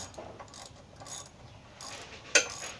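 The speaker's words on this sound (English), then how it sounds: "we're taking off the spark plug right now. It's a 5/8 spark plug socket" A hand ratchet fitted with a 5/8 spark plug socket clicks in short, quiet bursts while removing the spark plug from a Predator 212 cc small engine, ending in one sharper metallic clack.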